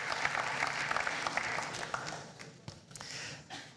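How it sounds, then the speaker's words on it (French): A crowd at a campaign meeting for the Avignon 2026 municipal race applauds in a dense, steady patter of clapping that thins out toward the end, with a few scattered louder claps. "C'est vous que j'applaudis."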